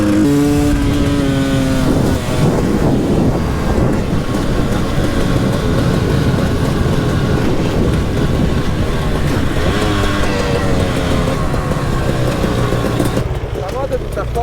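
A supermoto motorcycle rides along Tuscan roads, its engine note rising and falling steadily throughout under wind noise, with a rider speaking over it and a tonal rev near the start.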